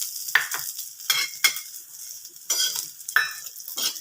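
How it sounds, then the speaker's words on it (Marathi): Peanuts sautéed in hot oil in a pan for a stuffed brinjal curry. Close, rhythmic scraping stir strokes come in about seven short bursts over a low sizzle, with no voices. "आता शेंगदाणे तेलामध्ये छान परतून घ्यायचे"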